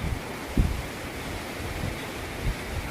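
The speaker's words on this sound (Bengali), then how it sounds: "বাতাস উঠে গেছে" Wind picking up under darkening skies before rain, a soft broad rushing noise with a few low buffeting gusts against the microphone, steady and fairly faint, no voices.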